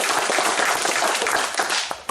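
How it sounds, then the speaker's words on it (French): An audience at a quiz duel applauds a point with a dense burst of clapping that stays loud throughout, ending with a few scattered claps. "Un point, donc on applaudit pour Jean."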